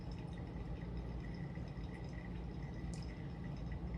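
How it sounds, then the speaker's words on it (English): A coffee maker drips freshly brewed coffee in a steady, continuous low trickle with faint liquid patter, close and even throughout, with no voices. "right now the coffee is dripping"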